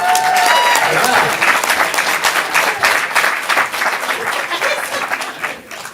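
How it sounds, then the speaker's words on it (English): Comedy club audience at a stand-up showcase breaks into loud, sustained applause that stays full for several seconds, then thins out as the clapping winds down, with scattered cheers mixed in. "Give Chris a round of applause"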